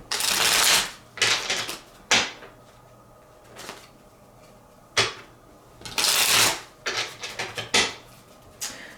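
Tarot cards shuffled by hand in several bursts of riffling and flicking, close and crisp, with short pauses between bursts and no talking.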